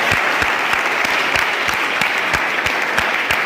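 Loud, steady applause from an audience at a college Kannada literary function in Badami, with many hands clapping densely and evenly throughout, up close and with no talk over it.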